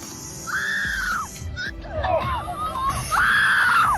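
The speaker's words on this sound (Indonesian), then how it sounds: "Sang putri berteriak ketakutan." A princess in a film shrieks in terror beside a snake tank, two long, loud, sustained screams separated by a burst of other agitated cries and commotion, close and dominant over background noise.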